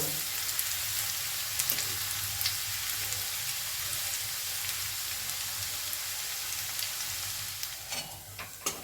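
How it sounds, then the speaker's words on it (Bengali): Chopped garlic frying in hot oil in a pan on a gas stove, a steady close sizzle with light stirring scrapes throughout and no talking. "রসুনটা একটু লাল লাল হলেই কিন্তু আমরা গ্যাস অফ করে দেব।"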